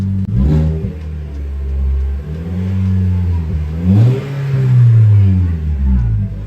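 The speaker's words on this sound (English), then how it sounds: "here's a start without the exhaust. Kind of sounds like a fart. Evan, can you rev it real quick?" A Toyota Corolla hatchback engine with its rear muffler removed starts and revs loudly, a raw, blatting exhaust rising and falling in pitch several times, close by.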